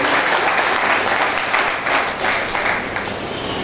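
Sustained applause from a large audience at the closing session of a political party training camp, dense and continuous clapping that swells and eases slightly in waves, loud and close.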